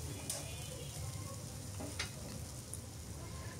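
Raw mango pieces go into a pan of mixed small fish frying, giving a continuous near sizzle with a couple of sharp clinks and stirring sounds.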